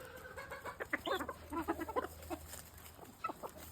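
Yard fowl chickens clucking close by on a small farm in winter, a run of short, irregular clucks and squawks at moderate volume, with no talking.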